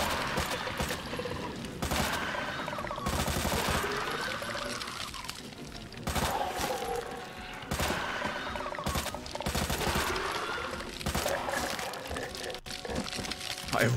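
Machine-gun fire in Resident Evil 2 Remake comes in long, loud, sustained bursts separated by brief pauses, a harsh rattling wash of shots close to the listener.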